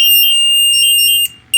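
A confined space gas meter sounds its alarm during a bump test, a loud, piercing electronic tone held steadily up close before it briefly drops out and starts again.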